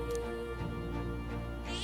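Mr. Kitty, a cat in the video game Metaphor: ReFantazio, meows a few times over steady game music, close and clear.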